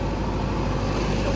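A car travels along a mountain road near Kedarnath, its engine and tyre noise a steady low rumble at moderate distance, fairly quiet, with no voices over it.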